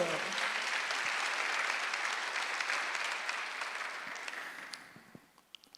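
A congregation applauds during a Sunday church service, a sustained wash of many hands clapping that fades into a few last scattered claps.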